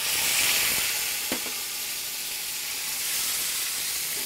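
A ribeye steak sears in a hot pan over high heat, giving a loud, steady broadband sizzle and hiss with one brief knock near the start and no voices.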